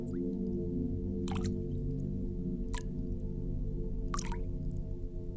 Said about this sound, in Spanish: la constante interrupción de las gotas de agua